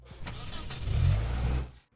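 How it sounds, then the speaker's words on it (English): Realme Buds Q wireless earbuds play their gaming-mode chime, a synthetic car engine start effect: a short rumbling crank that swells into a steady idle for about two seconds, heard alone and fairly loud. "which indicates by giving a car engine start sound like this."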